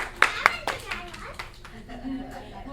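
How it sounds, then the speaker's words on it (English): A few people clap for the meteorologist during a CNN studio tour, a handful of sharp, close hand claps at first that soon thin out, with children talking over them. "let's give our wonderful meteorologist a round of applause."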